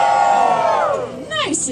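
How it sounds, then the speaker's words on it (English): A rowdy audience group lets out a big, loud cheer, shouting and whooping together in one short, close burst that rises and then breaks into scattered yells. "I want to hear a big, rowdy Blue Mountain cheer."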